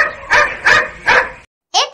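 A dog barks three times in a steady, evenly spaced rhythm, then gives one more sharp bark after a short silence, loud and close with no talking.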